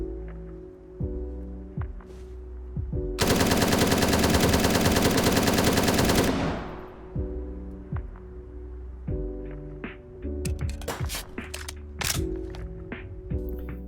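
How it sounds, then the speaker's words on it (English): Automatic rifle fire from an M4 and SCAR in the video game Zero Hour, a sustained three-second full-auto burst with a ringing tail, surrounded by single shots, metallic clicks and low in-game ambience. "Before we talk about how useless shooting the M4 is on hipfire"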